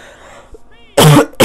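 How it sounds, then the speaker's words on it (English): A single close, loud cough bursts out after a quiet stretch, with faint background sound before it. "Sorry, I've coughed."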